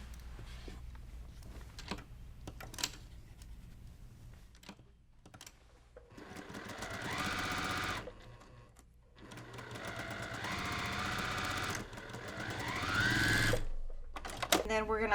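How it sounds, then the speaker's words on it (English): A sewing machine runs in several bursts, stitching the seams of a quilt's 4-patch block, with quieter gaps and faint talk between the runs. "we will finish the 4-patch"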